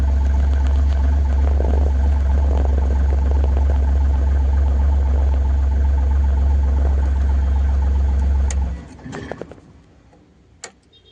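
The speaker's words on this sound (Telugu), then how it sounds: "బండి అయితే స్టార్ట్ అయింది." An Ashok Leyland Dost light truck's diesel engine idles loud and close with a steady low throb and faint ticking, then shuts off near the end, leaving a few scattered clicks.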